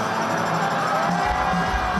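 Huge stadium crowd of about 75,000 fans at the reunion tour opening concert in Cardiff, Wales, a steady dense roar of many voices with faint cheering, heard from within the crowd.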